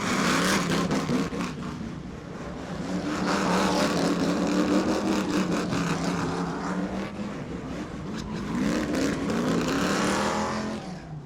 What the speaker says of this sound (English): George burnout in front of Derek Pugh.